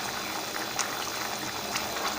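Rice water boiling in a pot of aloo pulao, a steady close bubbling hiss with small pops scattered through it, continuous and even.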